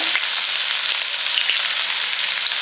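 Crushed garlic sizzles steadily in hot oil with popped mustard seeds and fenugreek, a dense, even frying hiss heard up close with no voices.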